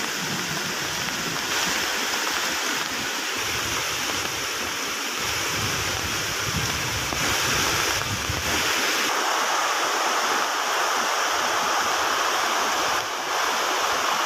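Floodwater in Nagaon, Assam, giving a steady, broad rushing wash that stays loud and continuous throughout, with wind buffeting the microphone and no voices.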